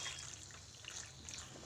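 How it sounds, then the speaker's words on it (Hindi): Half a cup of water poured into macaroni pasta in a pan while cooking an Indian-style macaroni dish, a soft steady trickle and splash running quietly through the short moment. "मैंने यहाँ पे 1/2 कप पानी डाला है"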